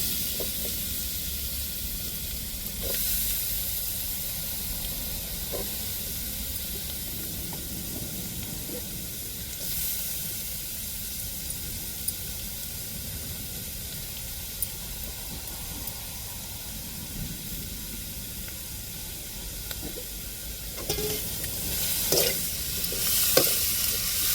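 Grated carrot stir-fried in a pan for a vegetarian fasting-meal carrot and raw banana poriyal, giving a steady close sizzle and hiss with occasional scraping stirs, louder clatter near the end.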